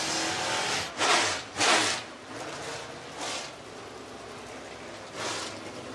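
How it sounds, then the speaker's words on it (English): Race cars rolling out onto the dirt track at Screven Motor Speedway in Sylvania, Georgia, for hot laps, engines droning at a distance with a few louder surges as cars pass by. "Hot lap group number 5 rolling out onto the Speedway now."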